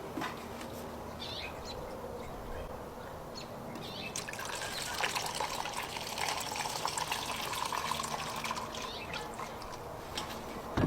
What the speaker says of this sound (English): I'm going to pour some in this little cup for you to see.